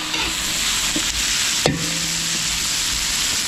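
Chicken liver, gizzard and chicken breast frying and being stirred in a pan at an outdoor catering setup, a steady close sizzle with a brief clank of a utensil midway.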